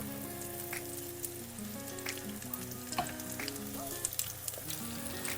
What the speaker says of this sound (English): so this is still frying